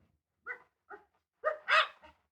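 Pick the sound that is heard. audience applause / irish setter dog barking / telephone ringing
irish setter dog barking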